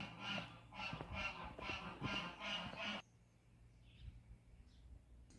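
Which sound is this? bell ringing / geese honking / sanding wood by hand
geese honking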